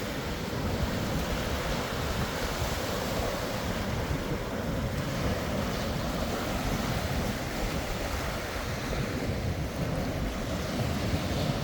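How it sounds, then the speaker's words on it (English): A steady, loud roar of surf on a beach at Panama City Beach, with wind rumbling against the microphone, unbroken throughout and with no voices. "Those waves."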